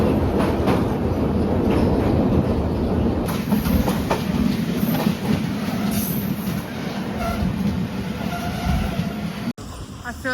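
A passenger train rolling through Sri Lanka, heard from aboard with a loud continuous rumble, rhythmic clattering of wheels on rails and occasional squeals, steady throughout before a sudden drop near the end.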